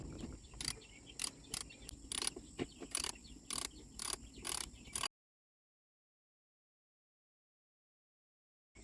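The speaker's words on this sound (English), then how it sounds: "then you have to take off two 10mm bolts to remove the cover" On a Kawasaki KFX 90 ATV, a wrench loosens the 10mm bolts on a cover in short repeated bursts of ratcheting clicks, close and fairly faint, followed by silence.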